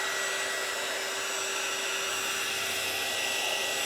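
A handheld hair dryer runs close by, drying a craft frame, giving a steady even whooshing blow with a faint motor whine that holds unchanged throughout, with no talking.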